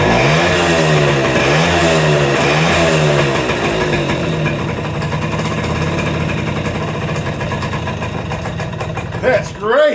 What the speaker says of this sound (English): It's gonna idle down with that exhaust, a little back pressure, but I like it. I like that sound.